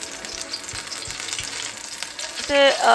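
Pakoras and spring rolls deep-fry in oil for an iftar meal, a dense, steady sizzle with a few light taps and a louder bubbling surge near the end, heard up close.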